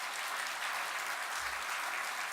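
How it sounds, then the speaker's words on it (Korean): A church congregation claps steadily during a worship service, a dense, even wash of applause that holds at the same level from start to finish with no voices over it. "뜨거운 축하와 격려의 박수를 부탁드립니다."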